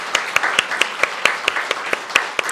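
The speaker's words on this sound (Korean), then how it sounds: "우리 주님 앞에 감사의 박수를 좀 드리겠습니다." Church congregation at a Wednesday service clapping in rhythm, sharp regular claps about every quarter second over a softer bed of scattered applause, close and fairly loud.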